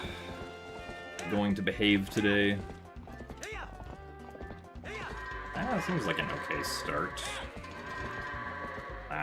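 Goats in the video game Twilight Princess, with hooves clattering in quick runs over game music and sound effects, while someone talks throughout.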